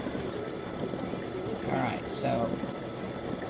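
A sewing machine satin stitches a patriotic stripe design with a continuous close mechanical whir and buzz, and a person speaks briefly over it.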